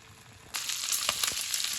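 Pork with garlic and onion hitting a hot pan, bursting into a loud, steady sizzle partway through, with crackling pops over the continuous frying hiss.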